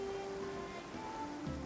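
Steady rain in the game Genshin Impact, a soft continuous patter and wash of drops falling on surfaces, with faint tonal game music running beneath it and no talking.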